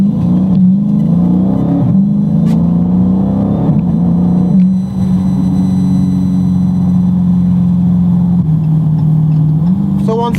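Car driven spiritedly in sport mode on Atturo AZ850 performance tires, a loud, steady in-cabin engine drone that rises and falls with throttle, with brief shifts in pitch and faint knocks throughout.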